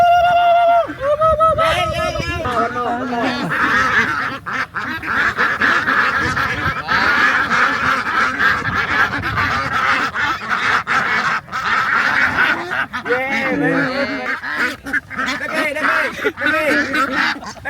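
Ducks at a duck stop in Hoi An quack and honk loudly and continuously, many birds close by at once, while people talk underneath.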